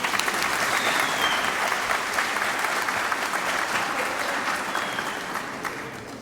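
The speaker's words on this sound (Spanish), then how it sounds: "Por favor, un gran aplauso a este gran exponente." Sustained audience applause for a speaker at a public discussion panel on a 2025 popular consultation, a full room clapping steadily and evenly, fading a little toward the close.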